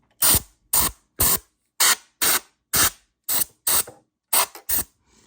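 Ten short, sharp bursts of canned compressed air hiss out one after another in a steady rhythm while cleaning dust from a sewing machine, each puff loud and close, with silence between them.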